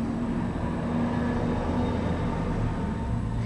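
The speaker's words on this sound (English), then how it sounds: "apologize for the loud traffic" Loud street traffic heard through an open window in the UK, a constant low rumble of passing vehicles with an engine drone, steady and unbroken throughout.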